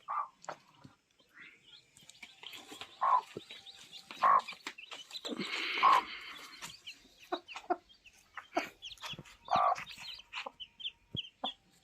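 A hen clucks in short, scattered bursts nearby, with softer peeping and rustling between calls in a quiet setting.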